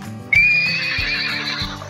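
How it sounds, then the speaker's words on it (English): A horse gives one loud, drawn-out whinny that starts sharply and trails off, with steady background music underneath. "Horse."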